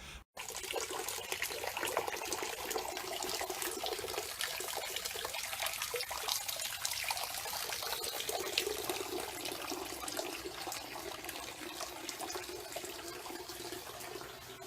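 Water runs steadily through newly installed rails in a hydroponic greenhouse, a constant trickling and splashing wash that stays loud and even throughout after a brief opening click.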